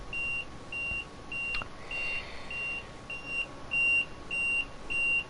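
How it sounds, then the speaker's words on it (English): A stream setup's electronic alert sounding when the streamer leaves their seat: a regular series of short, identical high beeps, about two per second, repeating steadily and moderately loud over a quiet background. "what's that beeping?"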